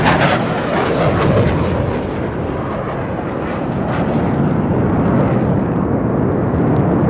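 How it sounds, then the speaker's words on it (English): A single Rafale fighter jet at a Republic Day parade flypast in India roars overhead at about 900 km/h while performing a vertical Charlie manoeuvre, a loud, sustained broadband rumble with bursts of crackle throughout, alone without talk. "a single Rafale aircraft flying at a speed of 900 kilometers per hour, carrying out a vertical Charlie"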